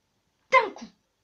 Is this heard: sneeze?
yes